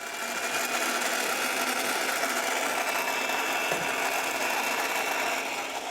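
An electric mixer beats egg yolks with syrup in a kitchen, a steady, continuous whirring drone held close and even throughout, with no talking.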